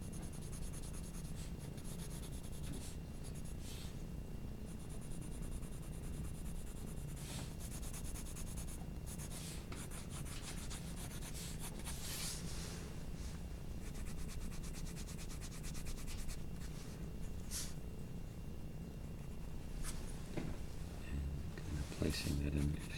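Prismacolor colored pencil moving over paper in continuous scratchy strokes, quiet and close, while a person talks throughout.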